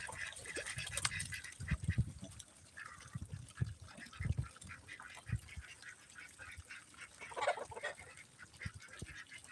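Farm ducks kept on a water setup quack and honk in a lively, overlapping squabble, close and fairly loud at first, with scattered calls continuing over a steady outdoor background.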